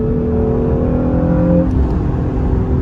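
A car engine hums and revs steadily with a sustained drone, a brief hiss near the end from the dump valve releasing pressure.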